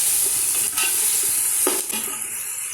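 Sliced spring onion whites, capsicum, carrot and beans fry loudly in coconut oil for chicken fried rice, stirred with steady scraping over a continuous close sizzle.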